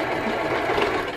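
A sewing machine runs in a short close burst, its fast steady mechanical whir and stitching hum continuous with no talking.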